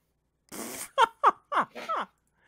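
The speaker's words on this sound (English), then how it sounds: "Sound like a fart." A fart-like sound from a scene in The Avengers film: a rapid run of five short, sputtering blurts lasting about a second and a half, heard alone without talk.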